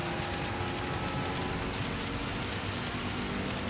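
Rain drumming on a car and its windscreen in a GT racing game at Suzuka, a dense steady hiss with no breaks, close and loud with no talk.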